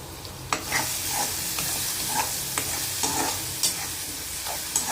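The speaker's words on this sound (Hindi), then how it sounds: "अब तोरी छोंक रही हूँ।" Steady loud sizzling of ridge gourd frying in a pan, with periodic clicks and scrapes of stirring throughout, no voices.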